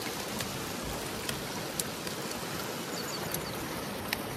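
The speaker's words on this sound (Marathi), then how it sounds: "पाऊस पण पडतोय." Rain falls near Pandavkada waterfall during a trek, a soft, even hiss with scattered sharp drop ticks, faint and steady.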